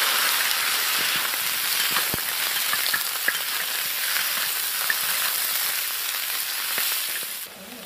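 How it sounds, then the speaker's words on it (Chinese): Pig trotters stir-fried in lard with Sichuan peppercorns and dried chilies give a steady, dense sizzle with scattered faint pops and clicks throughout, ending in a slight drop near the end. "猪蹄炒一下"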